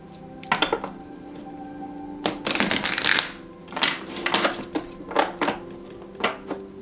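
Numerology cards shuffled by hand, a run of crisp papery riffles and taps in irregular bursts, close and fairly loud, with no talking.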